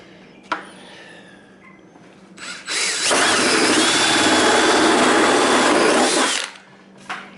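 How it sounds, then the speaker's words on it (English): Power drill boring holes in a plastic container for a gravity feeder, a loud continuous whirring burst of about three and a half seconds, close by, with quiet clicks and handling noise before and after. "You get the hose drilled out."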